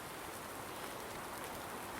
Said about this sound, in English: Raining now, as you can tell.